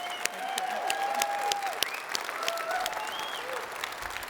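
An audience at a government event about modernizing the 2020 Census gives a steady, moderately distant round of applause, with a few thin whistles riding over the clapping.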